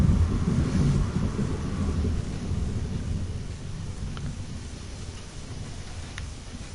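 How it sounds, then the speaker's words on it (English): Thunderstorm ambience in the video game Rapture 2: a deep, rolling rumble of thunder over steady rain hiss, loudest at first and slowly easing, with a couple of faint ticks. "Oh, lovely storm sounds, aren't they?"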